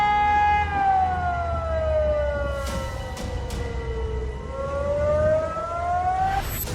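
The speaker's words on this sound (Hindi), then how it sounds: "पानी बढ़ने पर हर तरफ सायरन की डरावनी आवाज गूंज रही है।" A civil defense siren wails steadily during flooding in Russia, its tone sliding slowly down and then rising again, loud and sustained with a faint rumble underneath.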